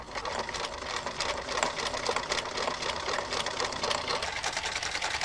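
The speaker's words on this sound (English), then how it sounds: "by combining sideways needle movements with variable cloth feed movements, all sorts of fancy stitches become possible" A sewing machine runs continuously, stitching fancy patterns with sideways needle movements and variable cloth feed, giving a dense, fast mechanical whirring and clatter that stays steady and close for the whole stretch.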